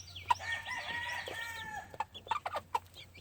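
Hens and chicks on a gamefowl farm give a drawn-out call followed by a few short clucks and faint peeps, close and fairly quiet, with no talking.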